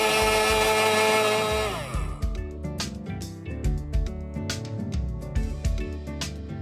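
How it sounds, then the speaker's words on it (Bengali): Electric blender whirring as it blends watermelon juice for a watermelon punch, a steady high motor drone that winds down after about two seconds into choppy, uneven rattling and bursts, close and fairly loud. "আমি আবারও ব্লেন্ড করছি।"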